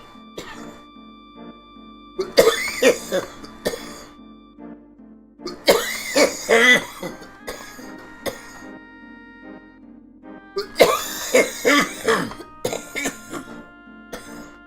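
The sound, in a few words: cough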